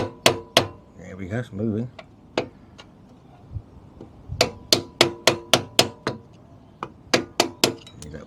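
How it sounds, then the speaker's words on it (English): An old screwdriver is tapped with a hammer to drive out a stuck part during a Direct Bikes Sport DB50 QT-11 moped restoration: a series of sharp, close metallic strikes in irregular bursts, with a voice speaking briefly early on. "So I've just got an old screwdriver now, so I'm hoping this might just tap through."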